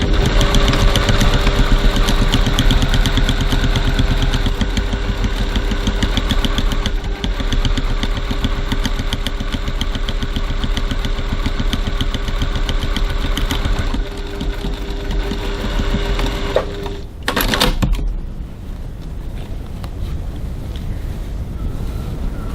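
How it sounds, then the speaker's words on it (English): A sewing machine stitches a seam on a piped garment, running close with a rapid, steady mechanical whir, then slowing and stopping near the end before a quieter stretch. "I'm going to stitch this seam again"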